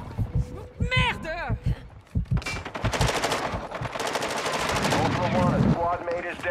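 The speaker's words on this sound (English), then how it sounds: "You are taking effective fire" Call of Duty gunfire: rapid automatic bursts and single shots crackle loudly and continuously, building into sustained fire, mixed with excited players talking over the shooting.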